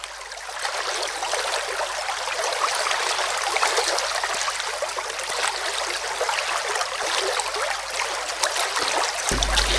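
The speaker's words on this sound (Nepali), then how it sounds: "गडगडाउँदै ओह्रालो ओर्लिरहने मल्याङ्गी खोलाको कोरस" The Malyangi stream roars downhill in a steady, dense rush of water, loud and continuous with no voices.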